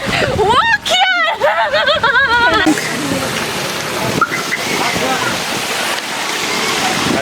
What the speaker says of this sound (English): it's too windy. We can't walk here.